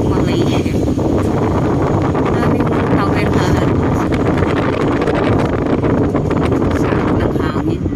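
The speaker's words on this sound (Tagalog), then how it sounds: "Ang hangin." Wind rushes loudly and constantly past a car on a road trip home to Ampang Jaya, Malaysia, buffeting the microphone with a heavy roar while people talk over it.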